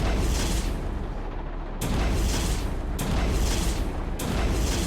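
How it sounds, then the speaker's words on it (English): An artillery rocket explodes in War Tycoon, a Roblox war game, as a dense, roaring, sustained blast, loud and close, punctuated by several sharp renewed impacts at steady intervals, with no talk. "I was trying to shoot you with an artillery rocket"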